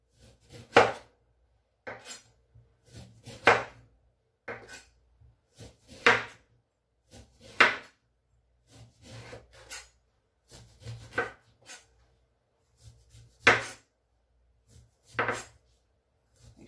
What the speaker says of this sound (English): Sure you remove all the skin of this lemon, then cut it in small pieces